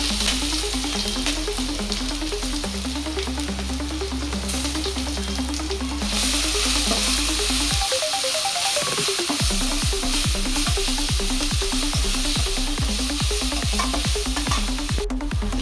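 Coarsely crushed green chilli, ginger, garlic and curry leaves sizzle loudly in a hot pan, with a rhythmic stirring scrape running throughout and a burst of fresh frying partway through.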